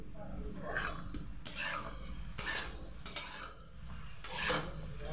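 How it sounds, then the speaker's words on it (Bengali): Onion paste and tomato stirred in a cooking pan for a Bengali ridge gourd, potato and fish curry, with several scraping strokes of a utensil over a soft sizzle, close and clear. "পেঁয়াজ বাটাটা দিয়ে টমেটোটা দিয়ে একটু নাড়াচাড়া করবো"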